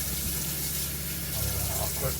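Hot water runs steadily from a pull-out sink faucet with a spray nozzle in a Grand Design Imagine XLS 21 BHE travel trailer, a continuous close hiss and gush of flowing water.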